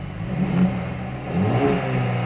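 A Mercedes CLA35 AMG engine revs in two short throttle blips, a throaty mid-range growl that rises and falls over a couple of seconds with no talking.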